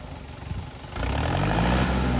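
A four-cylinder farm tractor engine runs close by. The low rumble swells into a louder, steady drone after about a second, as if the engine is revved up.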